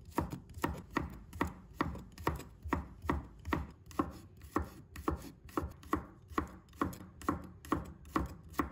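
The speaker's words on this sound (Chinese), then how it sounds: "再把它切成末切碎的" A knife chops garlic into fine bits on a cutting board, sharp close knocks in a quick steady rhythm, about two per second, with no talk.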